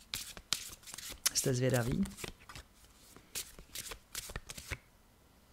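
Tarot cards being shuffled by hand, a series of crisp riffling and slapping bursts with one longer riffle, close to the microphone, while someone speaks briefly in Czech between the shuffles.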